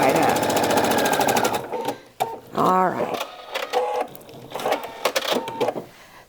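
Rapid mechanical chatter of a sewing machine stitching a fabric seam, a fast whirring run followed by shorter bursts of stitching amid handling noises and brief pauses.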